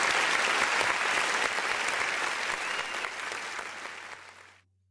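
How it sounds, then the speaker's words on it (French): An audience applauds a student: dense, steady clapping fills the room at moderate distance, then thins and cuts off abruptly near the end. "Sous vos applaudissements"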